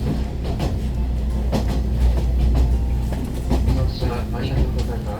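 A train rolls along the railway toward Yufuin with a steady rumble and rhythmic clickety-clack heard from inside the carriage, as a low, muffled voice speaks beneath the noise.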